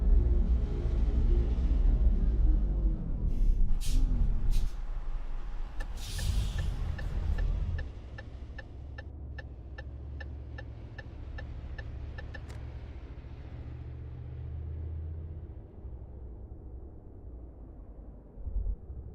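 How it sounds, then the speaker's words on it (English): Electric motors of a Tesla Semi truck in American Truck Simulator hum steadily with low rumble, a brief hiss and clicking ticks early, then a smoother quieter drone with a faint rising whine, no talking. "So you can hear the electric motors going."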